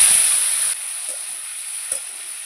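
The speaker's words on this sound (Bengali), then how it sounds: "ডিমগুলো ভালো করে ভেজে নেব।" Duck eggs rubbed with salt and turmeric frying in hot oil in a kadai, a steady close hiss of sizzling with a couple of soft stirring clicks, no talking.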